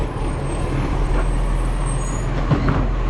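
A garbage truck's diesel engine idles and rumbles steadily up close, with a short hiss of air brakes and mechanical clunks partway through; no one speaks.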